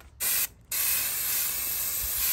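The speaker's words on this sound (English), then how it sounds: "I've been spraying this thing up the whole time." Two short bursts of pressurized spray hiss from a can of foam insulation, followed by a longer continuous spray, close and loud.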